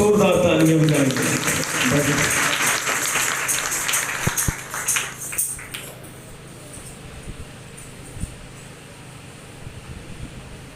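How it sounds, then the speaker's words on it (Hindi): A church congregation applauds for God's word during a Hindi-Urdu sermon, loud sustained clapping with some voices at first, then thinning out into scattered claps that fade into quieter room sound. "खुदा के कलाम के लिए भी जोरदार तालियां बजाएंगे।"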